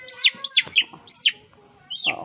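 Crossbreed chickens from Chinese silkie and native stock cluck and squawk in a few short, fairly loud calls close by, with brief pauses between bursts.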